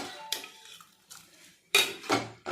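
Fried cauliflower is lifted out and set to drain in a stainless steel strainer, with several sharp metallic clinks and knocks of utensils against steel, close by, separated by quiet gaps and with no talk.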